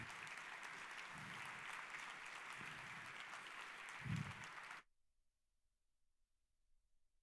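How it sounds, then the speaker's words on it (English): A conference audience applauds as a speaker heads to the stage at a tech talk, steady dense clapping for about five seconds that then cuts off abruptly into near silence. "let's give a huge round of applause for Alan Shreve."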